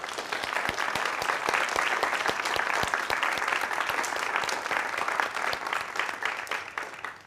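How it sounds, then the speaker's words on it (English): A church congregation at a Unitarian Universalist Sunday service applauds, a sustained, even wash of many hands with sharp individual claps standing out, holding steady for several seconds before easing slightly at the end. "please give a round of applause to yourself and other members of our congregation"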